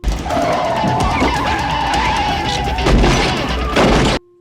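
A robbers' getaway car speeds off from outside a supermarket in a film, with a sustained tire screech and engine roar that swells near the end before cutting off abruptly.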